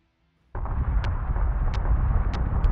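Missile explosions in the space combat game Battlestar Galactica Deadlock: a sudden loud onset into a continuous heavy rumbling roar, with several brief sharp bursts popping through it.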